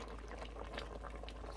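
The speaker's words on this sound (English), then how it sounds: "So I actually put too much water in here, so I'm going to drain some of my water." Water pouring off a pot of boiled potatoes as the excess is drained, a steady close splashing and gurgling flow with no pauses.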